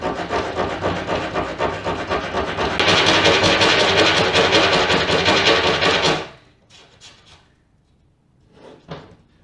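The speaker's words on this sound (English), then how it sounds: "Despite all the cutting you saw, or all the sawing actually, that's as much as it did." A hand saw cuts through wood for a birdhouse in rapid, rasping back-and-forth strokes, close and loud, growing more intense before stopping abruptly, then a few faint scrapes and taps follow.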